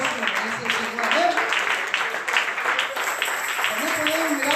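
A crowd claps steadily throughout, a dense patter of applause with voices mixed in beneath it.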